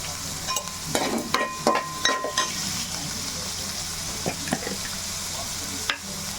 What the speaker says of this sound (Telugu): ఉల్లిపాయలు తొందరగా మగ్గడానికి కొంచెం కలిపి వేసుకుందాం.